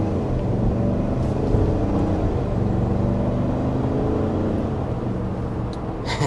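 A 2025 Chevy Tahoe LS base nine-passenger SUV cruises down the road with a continuous, even hum of road and engine noise. It stays steady at moderate loudness with no speech.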